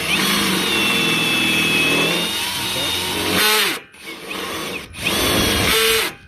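A hand-held drill bores into steel, its motor whining loud and steady before cutting out in two sharp breaks as the chuck kicks in, then restarting each time.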